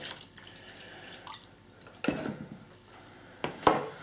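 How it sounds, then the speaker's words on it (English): Beef jerky marinade splashes and drips onto layered meat in a kitchen, with soft trickling and a few sharp, louder wet slaps, close up and without talk. "So if you want, you can add another splashing of the marinade."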